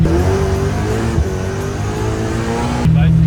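Holden LX Torana street drag car with a loud, rough, lumpy engine running steadily up close, deep and continuous, then shifting to a harder, steadier drone near the end.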